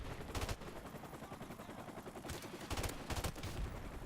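Rapid bursts of automatic gunfire from a new gun in the Call of Duty video game, two clusters of sharp shots with busier stretches between them, loud and close.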